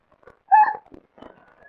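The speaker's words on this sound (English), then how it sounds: "now you have the hiccups" In an old wartime radio drama, a child gives a few short hiccups with little gasps, heard close and clear against near silence.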